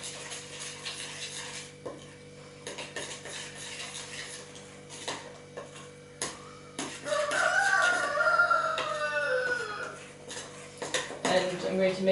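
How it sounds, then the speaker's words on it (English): Banana cake batter of flour and baking powder is stirred in a bowl, giving scraping and clinking utensil sounds against the dish in uneven strokes, with a rooster crowing in the background partway through. "I need to mix it together until everything is combined well."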